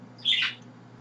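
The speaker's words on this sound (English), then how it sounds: "The birds." A bird gives one short, harsh squawk at close range over a low steady hum.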